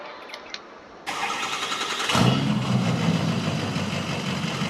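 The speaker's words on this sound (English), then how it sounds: "Give y'all a little startup sound." A 2005 Ford F350 work truck with a 7.3 Power Stroke diesel engine in Farming Simulator 22 cranks and fires up, then settles into a steady rumbling idle that carries on through to the end.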